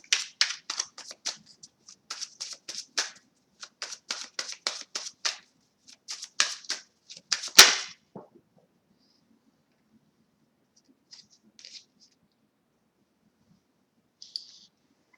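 A tarot deck is shuffled by hand in quick bursts of crisp riffling card clicks for about eight seconds, ending in one sharp slap, then near silence with a couple of faint card flicks.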